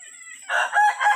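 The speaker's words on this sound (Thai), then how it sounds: "แม่ไก่ค่ะ นั่นน่ะแม่หัวเถือก" Chickens at a Thai fighting-cock yard: a rooster crows loudly and close by, with hen clucking mixed in, over a brief quieter lead-in.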